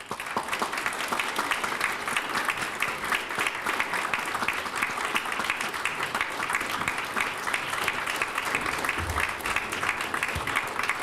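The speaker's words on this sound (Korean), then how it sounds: "교수님들께서 식장을 나가실 때까지 박수로 답례해 주시기 바랍니다." Sustained applause from the audience at a university orientation ceremony as the professors leave the hall, a dense, even roar of clapping lasting the whole stretch, loud and unbroken.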